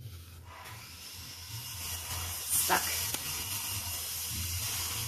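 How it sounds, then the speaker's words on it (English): A blowtorch flame hisses steadily and continuously, and a voice says a single short word partway through. "I'm going to use the blowtorch."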